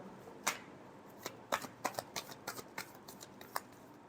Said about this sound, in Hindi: टॉरस की फीलिंग्स अपने पर्सन के लिए। Last shuffle.